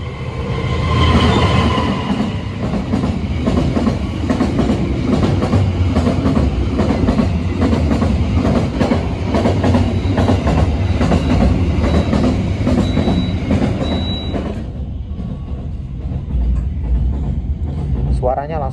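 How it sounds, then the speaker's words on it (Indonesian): Container freight train passing straight through Tegal station without stopping, a loud continuous rumble and clatter of wagons for most of the clip before cutting off abruptly, with voices talking over it. "kereta api barang kontainer sudah melintas langsung di stasiun Tegal ya"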